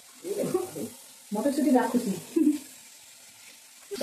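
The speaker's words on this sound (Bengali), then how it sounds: "নুনটা দিয়ে ভালো করে নাড়াচাড়া করে একদম কড়া করে ভেজে নেবো মাশরুম" Mushrooms stir-fried in a pan with turmeric and salt, crisping as they are turned; soft sizzling and scraping come in bursts with short pauses, and a voice talks over part of it.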